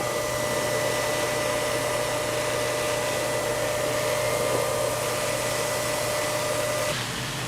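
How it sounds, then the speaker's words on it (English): An on-demand pump sprayer applying foliar fertilizer to plants runs as a steady, loud mechanical hum with a constant motor drone and hissing spray, continuous and alone for several seconds before dropping slightly near the end. "So this is an on-demand pump, so you don't want to allow it to sit idle."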